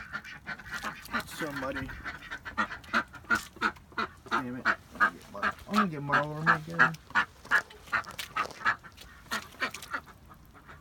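A backyard duck quacks repeatedly in a run of short, fairly close honking calls that rise in a burst near the middle, mixed with a person talking in a muddy yard.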